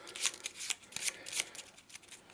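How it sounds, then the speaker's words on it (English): A quick shuffle of small board game cards, a brief flurry of crisp, close, papery riffling bursts. "So give these a rubbish shuffle as normal and drop them on the floor."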